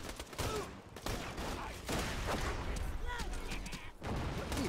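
Gunfire in the video game Borderlands: dense, repeated shots and bursts crackle loudly through the scene, mixed with voices talking over the shooting.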